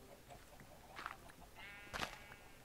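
Sheep bleat in the Minecraft video game, two short faint calls about a second apart, the second slightly stronger, over quiet game background.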